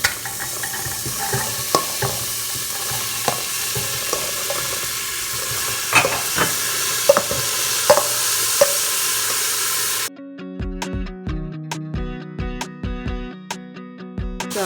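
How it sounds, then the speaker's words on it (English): Chickpeas being stirred into curry frying in a pot, with a continuous close sizzle and repeated scrapes and taps of the spoon against the pan, which give way near the end to sharper, sparser metallic knocks. "So I'm just mixing it here to coat the chana with the curry"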